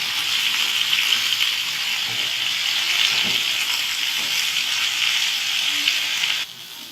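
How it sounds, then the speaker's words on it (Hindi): Chicken shashlik pieces fry in a pan with a steady, close crackling sizzle and faint stirring touches that run evenly, then drop off sharply near the end; no speech. "ताकि ये बहुत अच्छी से फ्राई हो जाए"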